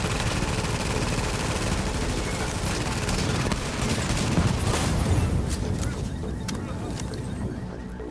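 Dense video-game gunfire in a two-player Times Square match rattles in rapid, overlapping bursts close by, a continuous loud barrage with sharp cracks that thins slightly near the end.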